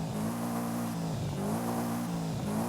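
Turbocharged car engine revving in the Forza racing game, a loud close tone rising and falling through three revs over a steady drone, with no talking.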